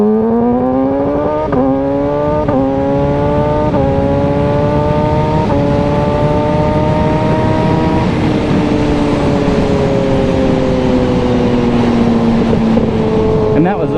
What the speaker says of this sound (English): This quick shifter is insane, and it's seamless.